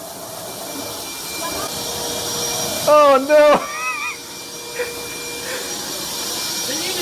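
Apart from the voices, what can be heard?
vacuum cleaner running in a video game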